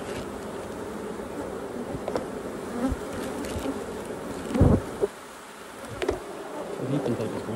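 Honeybees buzz steadily inside a cup during a sugar roll mite check, a close, dense hum that swells briefly with a louder burst near the middle before settling back.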